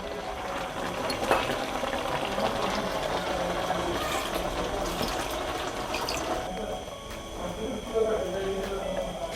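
Kerala-style crab curry simmering in a pot, giving a steady bubbling, rolling boil that runs continuously and fairly close throughout, with light kitchen clatter mixed in.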